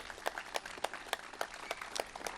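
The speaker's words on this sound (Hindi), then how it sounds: "जोरदार ताली बजा दो भाई बच्चे के लिए" A crowd at a yoga and Ayurveda gathering claps in rhythmic unison, with evenly spaced, fairly quick claps heard faintly from a distance.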